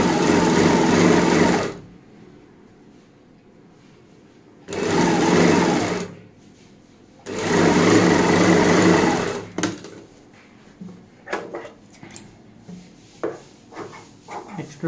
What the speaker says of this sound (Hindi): यहाँ पे हम सिलाई लगाएंगे इसी तरीके से